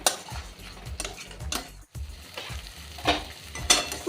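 Mango and pointed gourd being stirred and sautéed in a pan for rohu fish curry, with a steady sizzle under repeated scraping strokes of a spoon against the pan, close and fairly loud.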